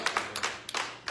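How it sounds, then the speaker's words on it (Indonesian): Congregation at a church service clapping hands, a short burst of several sharp, fairly rhythmic claps close together, moderately faint and alone. "Tepuk tangan dulu buat Tuhan kita."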